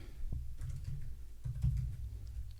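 Faint, sparse clicks of a computer keyboard being typed on, coming in two short bursts close by in a quiet room.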